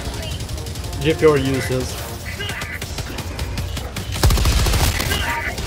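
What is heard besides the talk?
gunfire in the video game Helldivers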